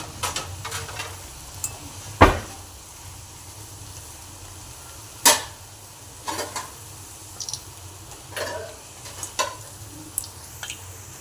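Luchi, puffed flatbread, frying in hot oil, a soft continuous sizzle punctuated by sharp clicks and clatters of utensils against the pan at irregular intervals, close by.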